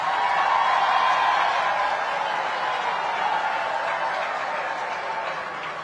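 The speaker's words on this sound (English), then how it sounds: "She's female, we need another applause." A large audience at a SADC heads of state summit keeps up dense, steady applause that fades slightly toward the end, with no voices over it.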